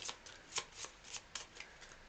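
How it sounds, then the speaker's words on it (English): Playing cards being shuffled during a solo board game session, a quick series of crisp riffling bursts repeating several times at close range, fairly quiet with no talking. "Give their cards a quick shuffle."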